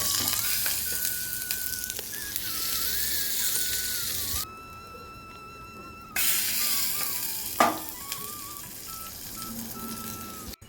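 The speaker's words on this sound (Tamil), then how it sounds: "நார்மலாக சட்னி தாளிக்கிற மாதிரி தாளிச்சிக்கலாம்" Steady crackling sizzle of tempering spices frying in hot oil for chutney, with a high-pitched whine in the background and a brief quiet gap partway through.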